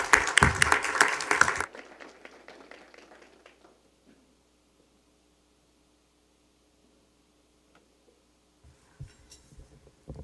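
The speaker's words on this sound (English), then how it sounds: "one more round of applause" A round of applause at a Leander ISD school board meeting; brisk clapping for about two seconds that quickly thins and fades into near silence, with faint rustling toward the end.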